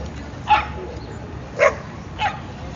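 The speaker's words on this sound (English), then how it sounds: "Look at these dogs, beautiful." Dogs in an enclosed Manhattan dog run bark outdoors in three or four short, spaced yaps at moderate distance over a low street rumble.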